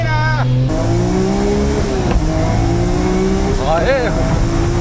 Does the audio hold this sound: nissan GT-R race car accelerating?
yes